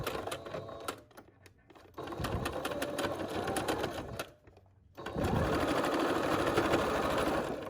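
A sewing machine back-stitches over elastic on a fabric filter mask, its rapid needle chatter running in bursts that pause, restart, and finish in a louder steady run, with no talking.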